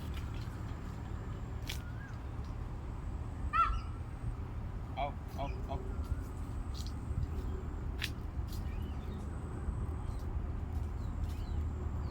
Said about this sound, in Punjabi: ਹੁਣ ਇਹ ਨਵੇਂ ਜੀ ਆ ਗਏ ਪਹਾੜੀ ਕਾਂ